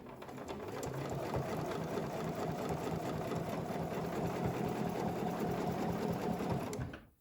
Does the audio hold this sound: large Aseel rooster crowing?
no